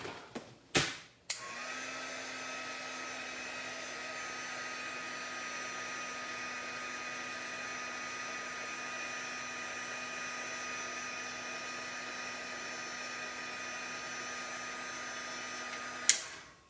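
An embossing heat tool whirs on for about fifteen seconds, warming embossing powder on a handmade baby card; a few clicks and taps come just before it switches on, and a clunk sounds as it shuts off.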